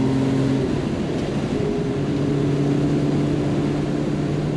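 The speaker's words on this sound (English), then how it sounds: "here is a quick drive of the Jaguar XKE" A 1973 Jaguar XKE engine hums steadily while driving, a moderate continuous drone with sustained tonal whine shifting slightly in pitch as the car moves along.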